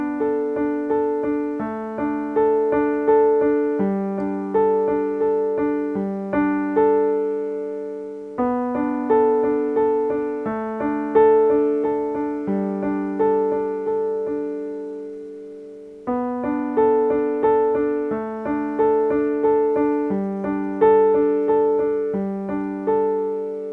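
Solo piano playing a repeating chord pattern, steady close chords in three cycles separated by short pauses, with no voice.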